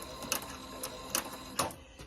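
A sewing machine back stitches a stretch rope, giving off a faint mechanical whir with a few sharp clicks and clacks spaced roughly every half second.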